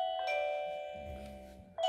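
A Winees WiFi doorbell chime rings indoors with a clear two-tone ding-dong that rings out and fades, then a fresh strike starts at the very end.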